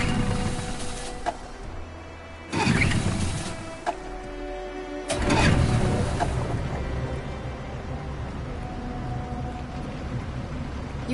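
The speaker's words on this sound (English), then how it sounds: "We're far enough out. We can use the engine." Boat engine in the Detroit: Become Human video game, a low continuous rumble over water and wind noise, broken by a couple of louder surges, with no talk.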